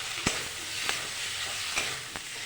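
Hand-ground spice paste frying for a rohu fish curry with potato and elephant foot yam, a soft steady sizzle broken by a few sharp utensil taps, fairly quiet and without speech.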